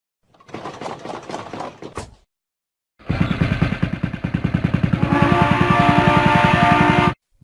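Bus engine noise from a children's learning game, a rhythmic chugging rumble that builds and stays loud for several seconds, following a brief spoken word.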